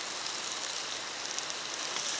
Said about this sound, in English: is really raining